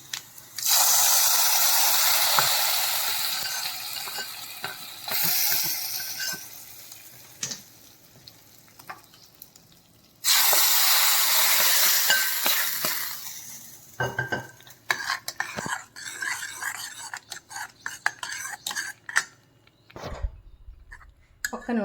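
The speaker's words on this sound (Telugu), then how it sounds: "తాలింపు ఇందులో వేసుకుందాం" Sizzling hot tempering poured into a pot of sour vakkaya dal, two loud hissing bursts from the hot oil, followed by a spoon scraping and clinking against the pot as it is stirred.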